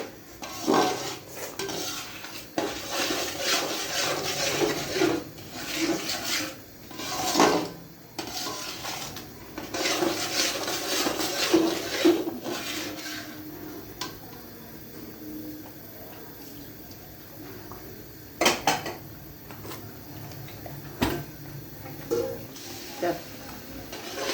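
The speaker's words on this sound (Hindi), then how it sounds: "चमचा हमने साथ साथ चलाते जाना है। चमचा हमने 1 सेकंड के लिए भी नहीं रोकना" A metal spoon stirs and scrapes a thick aflatoon mithai mixture being roasted in oil in a pan, producing irregular clinks and scraping bursts, with quieter pauses between rounds of stirring.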